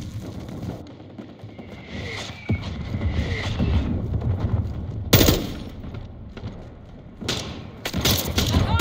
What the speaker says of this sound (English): Hostiles launched a mortar